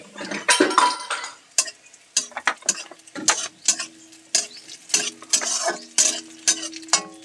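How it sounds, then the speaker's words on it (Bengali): Chopped green chilli tossed into fried onions in a pan for a flattened-rice and potato dish, with repeated sharp metallic scrapes and clinks of a spatula stirring, in uneven bursts close by with no talk. "পেঁয়াজটা আমার ভাজা হয়ে গেছে এখানে আমি লঙ্কা কুচিটা দিয়ে দিচ্ছি"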